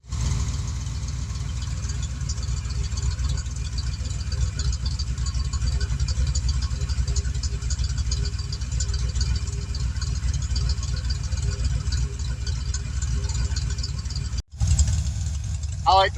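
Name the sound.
Mustang foxbody car engine idling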